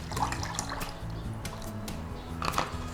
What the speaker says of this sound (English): We want to add about 1 cup of water